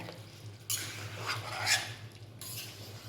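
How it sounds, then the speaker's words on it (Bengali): A spatula scrapes and stirs meat in a pan over a low hum, with a few soft scraping strokes and light clinks against the metal, close and fairly quiet. "এখন শুধু মাংসটা নাড়াচাড়া করব আর কষাবো অনেকক্ষণ সময় ধরে"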